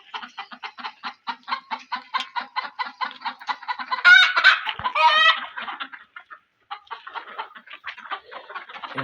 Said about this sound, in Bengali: এই যে দেখেন কত সুন্দর মুরগি।